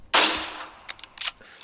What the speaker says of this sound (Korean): 제가 여기 있는 발사 버튼을 눌렀을 때 발사되는 소리하고 간격을 테스트를 해볼 거예요